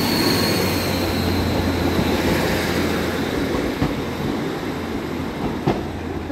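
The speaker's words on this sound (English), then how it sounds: "That works service from Manchester Victoria to Clitheroe." A passenger train with a Class 150 unit at the rear rumbles steadily past close by at Blackburn, wheels grinding and occasionally squealing, with faint clicks of the rails.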